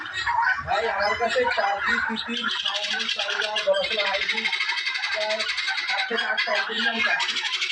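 Turkeys, chickens and ducks squawk and gobble close by on a poultry farm, loud and continuous, with a person talking over the birds.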